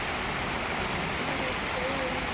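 Heavy wind and rain roar as a loud, unbroken wash of noise in a village during a fierce storm.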